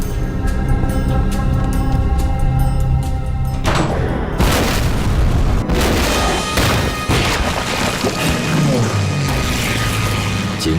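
Japanese warplanes bomb Shanghai in a dramatized wartime soundtrack, with loud, dense booming explosions, crashing debris and rattling, mechanical clatter running continuously without pause.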